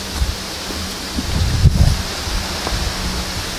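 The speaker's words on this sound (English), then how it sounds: "It's windy, guys, it's very windy." Strong wind gusting outdoors at night among the rocks near Rowtor Rocks, a steady broadband rush with louder buffeting bursts against the microphone, no voices.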